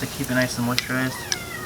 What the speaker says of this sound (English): The cat's begging to get let in of all things.